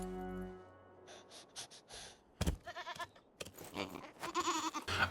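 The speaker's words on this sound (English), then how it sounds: "does Gabby the goat know something's up?" A goat in a movie scene bleats in short, sharp cries amid other soundtrack sounds, moderately close and mixed with bursts of noise.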